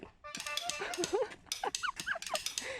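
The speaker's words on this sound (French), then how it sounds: "Attention, il y a les chiens qui arrivent." Several dogs approach outdoors, barking and yipping in quick, excited bursts that rise and fall in pitch. The barks are loud and fairly close and overlap each other continuously.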